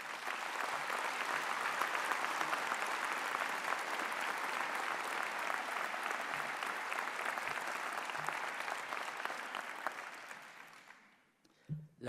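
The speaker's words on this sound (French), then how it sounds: "Je pense qu'on peut applaudir bien fort." Sustained applause from the audience at a mayor's New Year address, a dense even roar of clapping lasting about ten seconds before trailing off and stopping.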